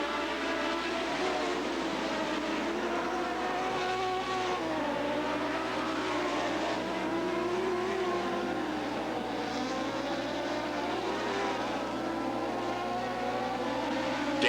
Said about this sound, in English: Dan Van Acker in the 39 car